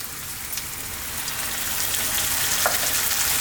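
Chopped fresh tomatoes sizzle steadily in a hot pan with eggplant, a close, even frying hiss that grows slightly louder toward the end, with a few faint clicks of stirring.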